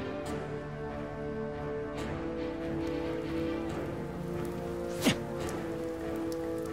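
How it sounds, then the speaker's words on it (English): Spray from a collision in Naruto Shippuden: Ultimate Ninja Storm 4 makes a continuous rain-like hiss of falling water, steady throughout with one sharp brief swish near the end. "No. That's spray from the collision."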